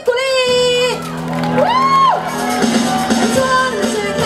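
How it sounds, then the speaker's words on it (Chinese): Audience at a film poster unveiling for Seediq Bale, with loud cheering, whoops and shouts rising over crowd clapping, sustained voices ringing out above the noise. "来掌声鼓励"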